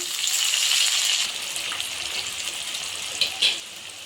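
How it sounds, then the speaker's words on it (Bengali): Sliced onions fry in ghee with cinnamon, cardamom and cloves, a close, steady sizzling hiss that eases slightly after the first second, with a couple of brief crackling bursts near the end. "এবার পেঁয়াজটা দিয়ে দিলাম, ভেজে নিয়ে পেঁয়াজটা"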